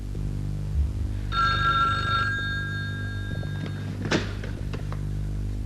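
A telephone rings once with a bright electronic trill, followed by a clunk as the handset is picked up, in a quiet room.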